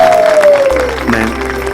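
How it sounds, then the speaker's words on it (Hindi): Applause welcoming a chief guest and principal at a school function, a steady dense clapping wash that swells and holds through the short stretch, with a low hum and a brief tonal sweep underneath. "जोरदार तालियों से स्वागत किया जाए।"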